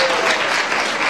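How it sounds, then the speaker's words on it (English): A loud, dense burst of applause from a church congregation, a brief continuous wash of many hands clapping together with no voices over it. "That rates some applause,"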